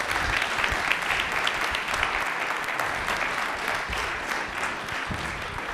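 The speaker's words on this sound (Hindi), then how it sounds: "तालियां भी एक बार जोरदार हो जाए इनके लिए" A studio audience gives a quiz show contestant a vigorous round of applause, a thick, even clatter of many hands clapping continuously for nearly six seconds.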